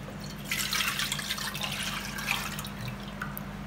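Coconut juice poured into a pot while cooking Jamaican saltfish rundown, a steady liquid trickle and splash with soft drips over a low background hum.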